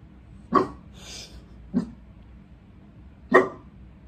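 A dog barking at the mailman outside, three separate sharp barks spaced a second or more apart, fairly close, with a short soft whine between the first two, no talking.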